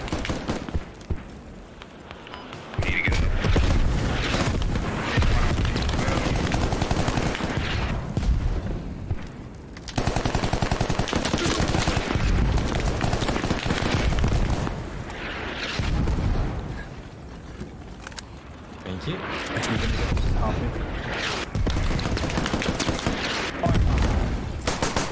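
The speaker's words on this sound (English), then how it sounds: "they're just fucking firing the mortars at it constantly" Mortar and gunfire in a Squad match rumble and crack almost nonstop, loud heavy booms and bursts layered over each other with brief lulls, close and dense throughout.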